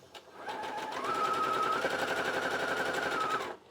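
A sewing machine runs steadily for about three seconds, stitching the final edge of a fabric bow garland, with a rapid even mechanical whir that starts and stops cleanly and no talking.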